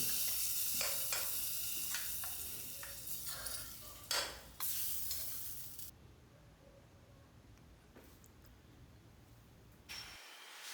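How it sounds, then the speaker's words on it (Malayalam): Small onions fry in hot coconut oil, with a steady sizzle and repeated scraping strokes of a stirring spoon in the pan that gradually quiet down. "വെളിച്ചെണ്ണയിൽ നമുക്ക് ചെറിയ ഉള്ളി അത് വഴറ്റിയിടണം"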